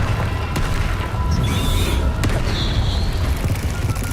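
A Confringo explosive spell from Hogwarts Legacy blasts with a deep, loud boom and rumble, followed by a couple of sharp cracks and hissing magical sparkle effects.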